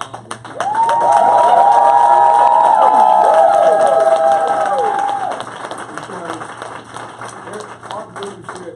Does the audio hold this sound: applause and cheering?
yes